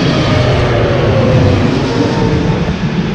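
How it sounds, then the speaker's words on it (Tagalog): Loud airplane passing overhead, a dense broadband engine roar with low rumble, sustained and steady over a few seconds and fading slightly at the end. "may aeroplano"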